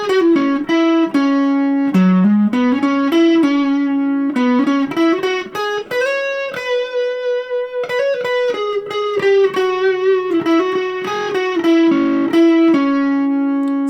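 An electric guitar plays a blues riff and lick, slightly driven through effects, with clear picked notes and bends ringing out alone for the whole passage.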